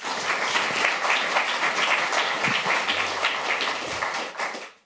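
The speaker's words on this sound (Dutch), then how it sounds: "Welkom, een hartelijk applaus." Lecture audience giving a warm round of applause to welcome a speaker on Friedrich Hayek and neoliberalism, dense steady clapping from many hands lasting almost the whole stretch before cutting off.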